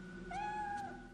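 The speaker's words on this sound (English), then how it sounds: "Oh, shit. I hear the kitty." A single short cat meow rises and falls within the video game Fatal Frame 3, clear but fairly quiet over a low ambient hum.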